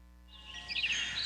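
Birds singing outdoors in a radio advertisement, a short burst of bright chirps and trills rising in quickly over a faint steady background hum, no voices.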